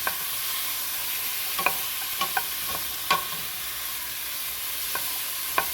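Pumpkin pieces sizzle steadily in warm oil in a pan, with a constant frying hiss broken by sharp clicks as a utensil stirs and knocks against the pan every second or so.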